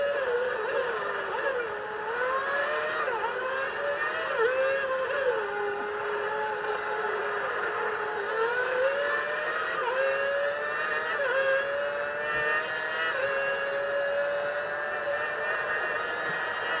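An F1 race car engine in the F1 Championship Edition video game, Monaco and Silverstone circuits, wails continuously at high revs, rising and dipping with gear shifts and slowing for a corner, steady and fairly loud.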